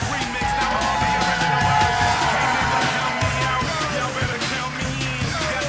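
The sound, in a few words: crowd applause and cheering for home team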